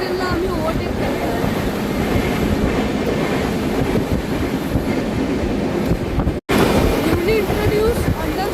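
Jan Shatabdi Express train running at speed while overtaking a local train, heard from onboard as a loud continuous rumble with rattling wheel clatter and wind buffeting, one brief dropout near the end.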